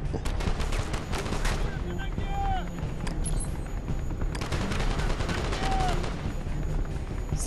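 Call of Duty mission with enemies firing nonstop, rapid overlapping shots rattling throughout, some sharp cracks standing out, while whizzing tones and a voice are heard in the background.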